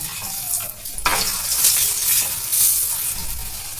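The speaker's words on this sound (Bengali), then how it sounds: "চেপে চেপে এইভাবে ভেজে নেবেন এত মুচমুচে সুন্দর পরোটাটা হবে" A pumpkin paratha fries loudly in a hot pan, a bright continuous sizzle swelling as it is pressed down, with a brief clank of the spatula against the pan.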